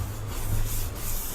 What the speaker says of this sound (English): just a light sanding is really all it's going to take